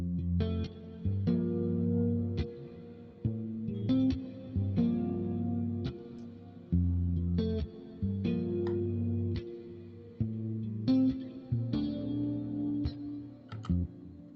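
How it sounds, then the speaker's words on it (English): Background guitar chords run as an eight-bar loop through the Archetype amp plugin, a steady series of processed strummed chords with short gaps between changes and no voices. "we move on to the background guitar chords"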